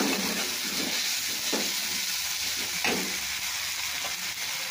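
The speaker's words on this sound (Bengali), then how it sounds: "এবার আমি এতে দিয়ে দিচ্ছি একটু আদা রসুন বাটা। আদা রসুন বাটা দিয়ে একটু নেড়ে চেড়ে নেব।" Ginger-garlic paste being stirred into fried onions in a hot pan, giving a steady broadband sizzle with a few soft scraping strokes of a spoon, close and even throughout.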